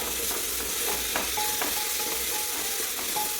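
Chopped tomatoes frying in a pan for beef varattiyathu, a steady close sizzle with repeated light scraping and stirring clicks from a utensil against the pan, no talking.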